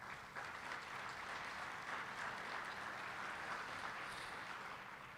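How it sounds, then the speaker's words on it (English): An audience at a mayor's business breakfast event applauds the sponsors; steady, dense clapping from a sizeable crowd sustains for several seconds at moderate distance without talk over it. "Big round of applause for our sponsors."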